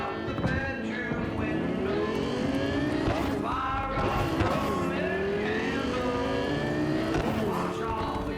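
Fastest car in Night City in the video game Cyberpunk 2077, a somewhat battered machine whose engine whines and revs continuously with shifting pitch, tires squealing as it drives, loud and close throughout.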